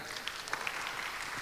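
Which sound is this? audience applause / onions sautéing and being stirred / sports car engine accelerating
audience applause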